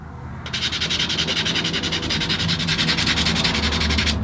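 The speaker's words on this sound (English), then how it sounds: "no matter how simple the project is you're working on, you're gonna have to sand it." Steady, rapid back-and-forth rasp of sandpaper on a small wooden center finder, loud and close, starting abruptly and continuing evenly without pause or speech.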